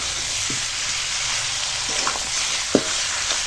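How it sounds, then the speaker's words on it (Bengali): Chicken and pointed gourd fry in a pan over a wood fire, giving a steady close sizzle with occasional scraping stirs and one sharper clack from the utensil, with no voices. "ভালো করে সুন্দর করে কষাবো"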